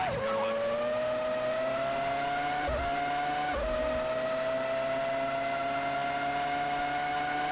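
A Formula One car's engine in Formula One 2003 screams steadily at high revs through the British Grand Prix, a loud continuous whine with two brief dips as gears shift, no voices over it.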